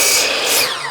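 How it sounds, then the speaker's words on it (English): A power saw cuts through timber for a wall's top and bottom plates, a loud, close, continuous high whine as the blade runs through the wood. "now I'm going to cut the top and bottom plate"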